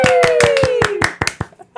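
A small group in a podcast studio claps in a quick, even rhythm, close and distinct, with a voice speaking over the first claps before the clapping trails off into a few stray hits.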